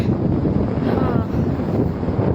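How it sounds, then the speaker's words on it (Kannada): Steady, heavy wind buffeting a phone microphone on Madhugiri hill, a continuous low roar and rumble that stays loud throughout with no pauses. "ಗಾಳಿನೇ ಕೇಳಿಸ್ತಾ ಇದೆ ನನ್ನ ಫೋನ್ ಸೌಂಡಲ್ಲೂ"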